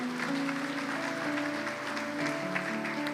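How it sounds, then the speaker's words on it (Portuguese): A church congregation claps steadily, a continuous dense applause with sustained musical tones underneath. "Se você crê, aplauda Ele"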